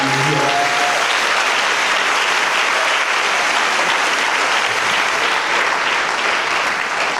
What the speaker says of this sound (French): Alors est-ce que nous pouvons acclamer le Seigneur ce matin?